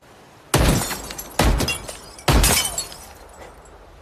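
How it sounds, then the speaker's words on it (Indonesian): Glass bottles shot with a pistol burst apart three times in quick succession, each sharp crack followed by a loud spray of shattering glass and tinkling shards that fades before the next hit. "Setelah beberapa kali menembak botol"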